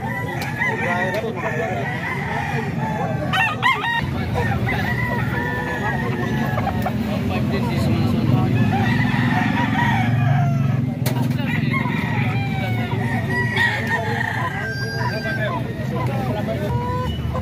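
Banded roosters crow repeatedly at a cockfighting farm in San Jose del Monte, Bulacan, with overlapping calls from several birds near and far, over steady background chatter and people talking.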